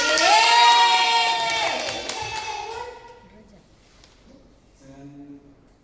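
Students in a classroom cheer and shout together in a loud burst that fades over a few seconds, with only a little clapping and a voice coming in near the end.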